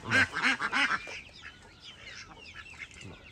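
Several loud, raspy duck quacks in a quick burst inside a duck coop, then fainter scattered bird calls and background chatter from the flock.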